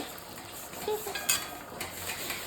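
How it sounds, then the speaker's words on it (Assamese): Luchi, a puffed flatbread, fries in hot oil in a pan at home, making a steady close sizzle. Light stirring and utensil clinks sound now and then, and no one talks. "এয়া মই লুচি বনাই আছোঁ"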